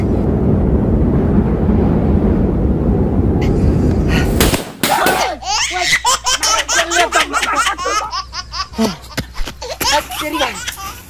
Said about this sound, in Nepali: पटेका पड्काई पड्काई मार्ने भयो त्यसले